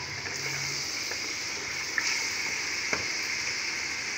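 Gentle, steady sizzling of pre-boiled beef frying in a pan for pulao, with a couple of faint clinks from utensils.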